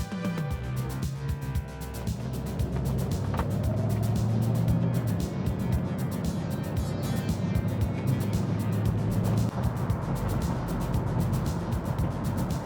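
Mercedes-Benz 500SEC AMG driving, a steady engine drone and road roar from inside the car, continuous and moderately loud throughout.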